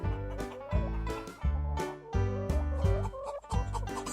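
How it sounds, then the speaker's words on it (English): A hen clucks in a lively repeated series of short, bright, throaty calls, about two per second, loud and close with no talk over it. "Hens make a different sound. Hens cluck."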